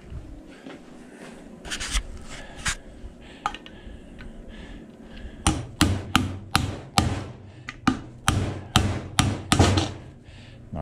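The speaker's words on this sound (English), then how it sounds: "grab the pin punch, hammer." A hammer strikes a pin punch on the fan motor of a condenser unit being scrapped for copper, giving sharp metallic blows. A few scattered hits come first, then a steady run of about a dozen close, loud strikes.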